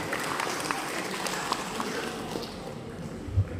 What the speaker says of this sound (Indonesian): Tepuk tangan untuk para peserta.